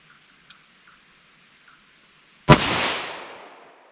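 Single sharp .357 Magnum revolver shot firing an Inceptor ARX plastic bullet outdoors near a chronograph, one loud crack with a decaying echo after faint ticks and birdsong.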